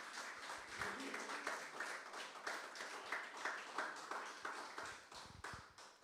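A church congregation claps in praise to the Lord, a fairly faint but steady patter of many hands with some louder individual claps near the end.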